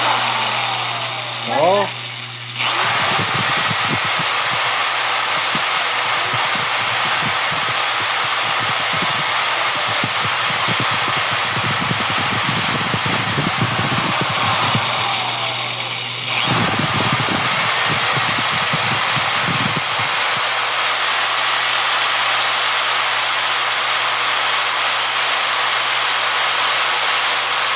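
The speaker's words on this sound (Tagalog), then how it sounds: "So una natin i-test mga lods itong drill natin." A Jianshun 5000-watt power drill whirs at a steady high-pitched whine through most of the run, with bursts of grinding rattle and a brief dip midway; someone speaks briefly at the start.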